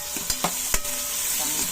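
Aromatics sautéing in a cooking pot for ginataang tahong, a Filipino mussel dish, with a steady close sizzle and a few sharp clinks of a spoon stirring against the pot, no talking.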